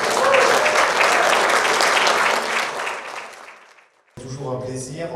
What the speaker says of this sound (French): Si vous voulez bien les applaudir.